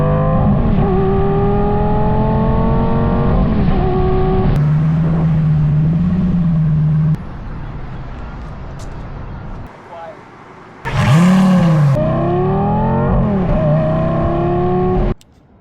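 McLaren sports car engine during a shakedown drive: a loud, steady engine drone that climbs and shifts in pitch, drops to a quieter idle, then surges back with a rising rev, with speech heard over it.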